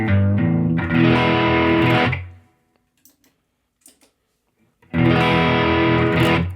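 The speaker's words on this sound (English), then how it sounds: "and then I have a distortion. So I'll turn those on." A guitar played through distortion and overdrive pedals gives thick, saturated chords, a loud burst for two seconds, then near silence with faint clicks, then another loud distorted strum.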